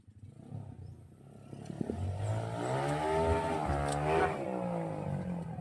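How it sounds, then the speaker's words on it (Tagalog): Four trail motorcycles rev their engines outdoors on a mountain dirt trail, the engine note climbing and swelling louder over several seconds as the throttles open, with a clattering mechanical edge and no talking. "So upat na sila ka motor dol."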